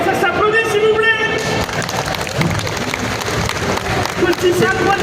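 Crowd applause at Japan Expo Paris, a steady wash of clapping that fills the space throughout, with people talking loudly over it.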